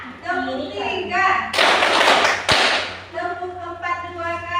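Students in a micro-teaching lesson clap in a rhythmic classroom game, a loud burst of group claps with a sharp final clap, framed by children chanting in unison before and after.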